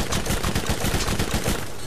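A gun turret in the Borderlands video game fires a rapid, loud burst of repeated shots, an evenly spaced automatic rattle lasting nearly two seconds with no voices over it.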